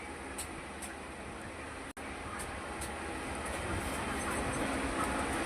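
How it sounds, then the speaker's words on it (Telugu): A moving train carries through a phone line as a steady, muffled rumble and rattle, with one brief dropout in the signal. "ట్రైన్ ఇప్పుడే స్టార్ట్ అయింది."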